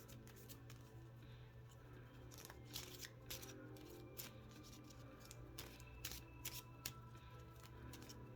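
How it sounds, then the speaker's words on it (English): A Keyforge card deck is shuffled by hand, faint soft riffles and snaps coming in uneven bursts over several seconds against a quiet room hum. "Go ahead and shuffle my deck up."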